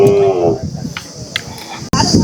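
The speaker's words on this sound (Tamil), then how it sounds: "இங்க பாருங்க, ஜோடி எருது." At a cattle market, a pair of Kangeyam bullocks give a low moo early on amid crowd murmur and scattered clatter, with loud background bustle throughout.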